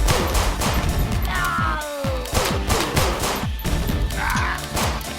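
Repeated gunfire in a video game sounds in quick, loud bursts of sharp shots, with crashing impact noises and a whooshing effect in between.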